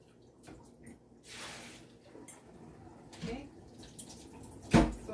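Water drains out of a kitchen container while green papaya is prepared for som tum, with sparse splashes, drips and a few clanks of dishes, ending in a louder sloshing burst over low, muffled background.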